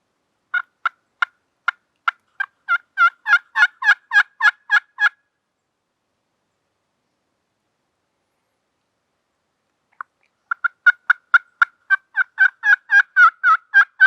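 A wild turkey tom in Massachusetts gobbles in two loud, clear bouts of rapid rattling notes, accelerating and building within each, separated by about five seconds of silence.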